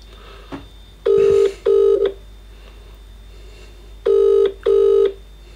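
An outgoing phone call rings back in a handset, two pairs of electronic ring bursts separated by a pause of quiet line hiss, loud and close.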